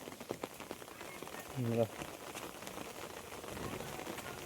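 Rain patters steadily on a surface, with a brief voice cutting in partway through.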